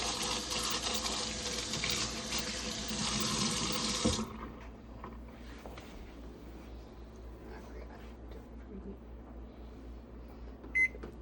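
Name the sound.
water running while washing something out in the sink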